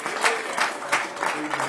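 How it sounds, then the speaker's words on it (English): Brief burst of applause from a church congregation for Pastor Williams, several loose pulses of clapping in quick succession, moderately close and without clear speech. "Come on, somebody, give Pastor Williams a hand."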